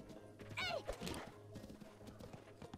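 A horse in a video game gives a faint, quavering whinny among soft clip-clopping hoof steps, heard quietly and close without any talk over it.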